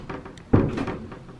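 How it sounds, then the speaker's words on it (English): A single office door shuts with one solid thud, close and fairly loud, followed by a short fading rattle. "So we close the door."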